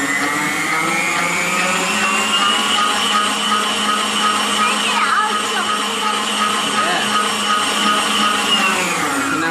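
An electric mixer whirs steadily through chocolate cake batter with cocoa, a loud continuous motor drone with a faint shift in pitch midway, running alone for nearly ten seconds.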